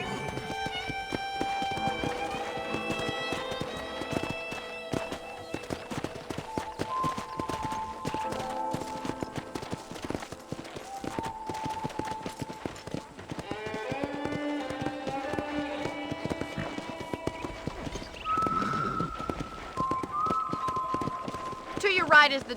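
Horse hooves clip-clopping in the Red Dead Redemption Remastered video game, a continuous quick patter of hoofbeats running under game music and spoken dialogue for the whole stretch.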